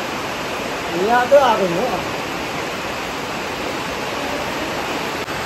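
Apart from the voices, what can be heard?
water gushing in through a drain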